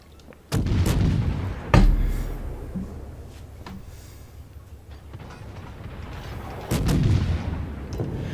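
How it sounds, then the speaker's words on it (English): Heavy naval guns of the Japanese cruiser Yubari in World of Warships fire at an enemy battleship, with a few loud booming salvos spaced seconds apart and a low rumbling tail between them. "go ahead and just keep shooting at this enemy battleship"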